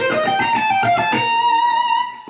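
Guitar plays a melodic motif from a major scale sequence, with minor triads arpeggiated in the middle: quick successive notes with a distorted, effected tone, ending on a sustained note, close and alone.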